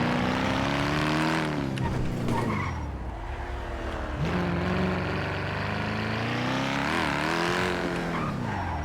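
A Porsche engine in GTA NoPixel roars loud and continuous, pitch sweeping up and dropping through gear changes with tire skids mixed in, while someone talks over it.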